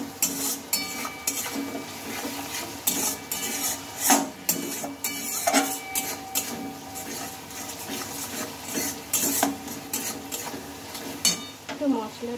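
A spatula stirs and scrapes through a moong dal and pointed gourd spice mix in a frying pan, with repeated metallic clinks and scraping strokes over a light, continuous sizzle.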